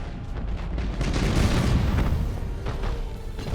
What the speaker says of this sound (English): Taking pretty heavy broadsides from the Imperials like this is kind of painful.